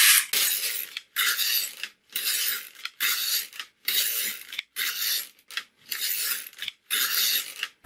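An LK-150 knitting machine carriage sweeping back and forth across the needle bed to knit fabric, a steady bright raspy slide repeated in eight even passes, each cut off by a brief pause, close and with no voices.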